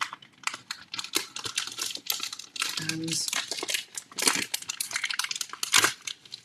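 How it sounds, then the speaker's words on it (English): A pack of smooth air-drying clay is opened with a continuous crinkling, rustling plastic sound, close and fairly loud, while a person talks over it. "So excuse the rustling whilst I just open the pack a little bit more."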